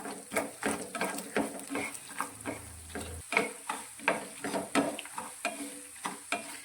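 Whole coriander and cumin seeds sautéing in hot oil for a dry Gujarati chutney, a soft crackling sizzle under repeated scraping strokes of a spoon in the pan, quiet and close.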